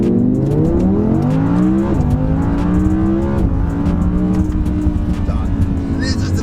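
An Audi R8 V10 Plus accelerates hard from a standstill, its loud V10 engine revving through rising gears with two clear shift dips, close and strong throughout.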